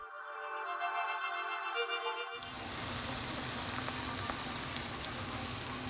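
Cheesesteak meat frying in a pan with Worcestershire sauce and Badia Complete Seasoning, a steady dense sizzle that starts abruptly partway through and holds loud and constant, alone without talk.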